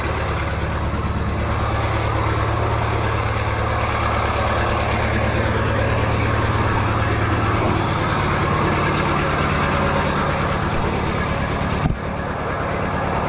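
A Minneapolis-Moline U302 diesel tractor engine runs with a little throttle, giving a loud, steady, close rumble that holds evenly, with a brief knock near the end.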